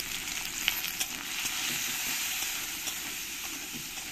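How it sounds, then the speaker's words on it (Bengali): Potatoes frying in oil with green chillies, salt and turmeric, giving a dense continuous sizzle with occasional stirring knocks, close and moderately loud, without talk. "দিয়ে সব একসঙ্গে আমি আলু আর কাঁচা লঙ্কাগুলোকে ভেজে নেব।"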